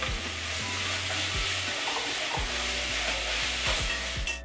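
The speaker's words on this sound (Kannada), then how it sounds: "ಕೊಬ್ಬರಿ ಹಾಕಿ ಫ್ರೈ ಮಾಡ್ತೀವಿ" Grated coconut frying in a pan gives a close, steady sizzle throughout, with occasional stirring scrapes and a low background hum.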